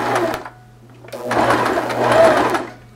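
Sewing machine stitching pleats on a fabric face mask, loud and close, with rapid whirring bursts that stop briefly and start again.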